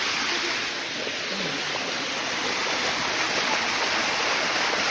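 A waterfall in Chiang Mai pours over mossy rocks, a loud, steady, close rushing roar of water that stays even throughout with no breaks.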